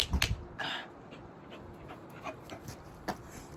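An American Bully dog named Romeo whimpers and pants close by in short breathy bursts and soft whines, with a few sharp clicks between them.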